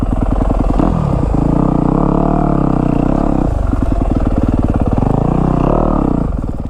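A Yamaha YZ250F Monster Energy Edition dirt bike rides off-road, its four-stroke engine loud and close, alternating between choppy low-rev popping and sustained revving surges as the rider works the throttle.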